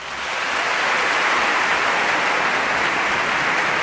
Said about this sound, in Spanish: Con estos aplausos más que merecidos para el maestro John Williams